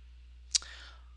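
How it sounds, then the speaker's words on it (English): A single sharp computer mouse click on a button, quiet and close, standing alone against a faint steady background hum with no talking. "you're going to just click the share button"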